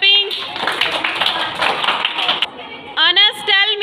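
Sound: children clapping in class

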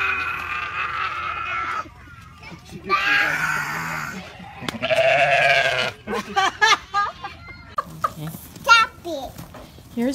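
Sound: goats bleating

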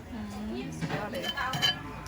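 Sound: washing dishes, clinking plates

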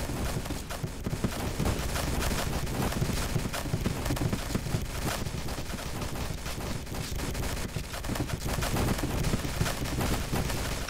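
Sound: explosions and gunfire in video game

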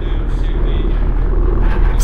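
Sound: old helicopter in the video game Half-Life 2: Episode Two

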